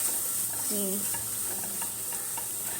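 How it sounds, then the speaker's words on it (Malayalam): Fish masala sautéed in a pan, a steady low sizzle with scraping stir strokes of a spoon against the pan at intervals, close and fairly quiet, with no one talking. "ഒന്നുകൂടെ വഴറ്റി കൊടുക്കാം ഇനി അതിൻ്റെ റോ ടേസ്റ്റ് ഒന്ന് മാറാൻ വേണ്ടി വഴറ്റി കൊടുക്കാം"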